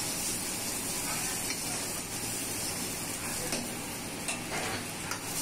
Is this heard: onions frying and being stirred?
yes